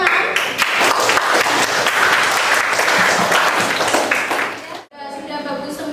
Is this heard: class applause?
yes